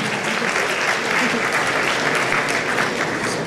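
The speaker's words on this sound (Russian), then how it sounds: "Ваши аплодисменты!" A student audience applauds a winner of a photography contest as he comes up to the stage, producing loud, sustained, even clapping from a large crowd that holds steady throughout, with faint voices mixed into the noise.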